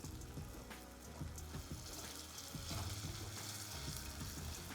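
Onion, green chilli and curry leaves fry in a pan for a chicken dish, giving a soft steady sizzle and crackle with intermittent stirring scrapes and taps, fairly faint and without talk.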